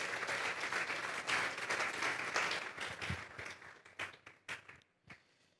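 A church congregation applauding for the Lord, dense clapping from many hands that holds steady, then thins to scattered claps and fades out.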